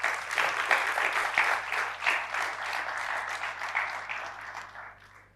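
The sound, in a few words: audience applause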